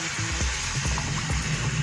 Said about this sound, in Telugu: 2 కప్స్ వాటర్ పోసుకుందాం